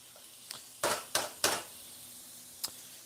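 A few sharp metallic clanks and scrapes of a pan or wok, spaced irregularly over a quiet kitchen background.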